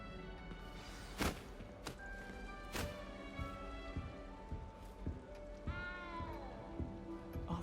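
Faint meowing of a cat in Hogwarts Legacy, a few short high cries mixed with soft game ambience and occasional thuds, no words spoken.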